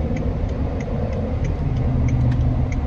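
A 2009 Range Rover Supercharged idling with a steady low engine burble, heard close and loud, with faint regular ticking on top and no talking.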